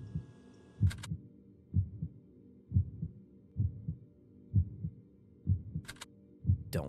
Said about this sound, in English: Don't like the heartbeat. It's upsetting.